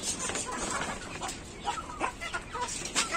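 Aseel hens clucking while feeding in a poultry yard, scattered soft clucks and calls over a dense, noisy background of farmyard activity.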